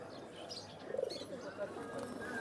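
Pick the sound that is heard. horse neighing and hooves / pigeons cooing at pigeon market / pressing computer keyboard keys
pigeons cooing at pigeon market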